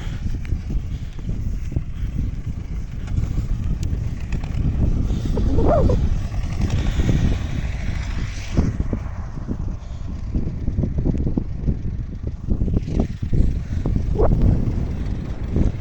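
T-25 tractor working with a potato planter in a field, a constant low rumbling drone mixed with heavy wind noise throughout.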